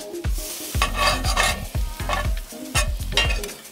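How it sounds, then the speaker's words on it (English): Sliced beef for Philly cheesesteaks sizzles loudly in a hot pan as it is turned and stirred, with repeated scraping and clattering strokes over a constant close frying hiss. "let's get it turned for the last time before we mix it all together"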